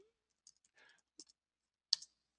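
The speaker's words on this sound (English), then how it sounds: "But I can also just go ahead and type in" A few sparse, soft keystrokes on a computer keyboard while a file name is typed, quiet and isolated against near silence.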